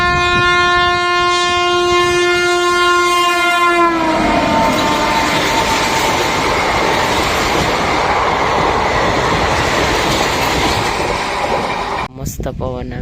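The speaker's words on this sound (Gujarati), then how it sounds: "તો આવી ગઈ ટ્રેન." Botad–Bhavnagar passenger train 59229 arrives at a station, sounding a long, loud, sustained horn at close range before it gives way to a heavy rolling rumble and wheel clatter that fills the rest of the scene.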